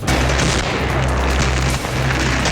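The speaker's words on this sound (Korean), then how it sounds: "제보자 차량 앞으로 전신주가 쓰러지며 폭발이 일어난 건데요." A toppled utility pole explodes in front of a car on the road, a loud sustained rumbling blast with crackling bursts and deep booms throughout.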